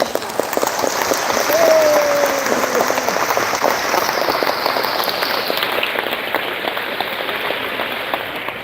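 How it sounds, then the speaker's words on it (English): A large graduation-ceremony crowd for the class of 2025 applauds teachers and staff, a long even roar of clapping that stays steady and slowly thins toward the end. "Can everyone please give a big round of applause to our wonderful teachers and staff in the class of 2025"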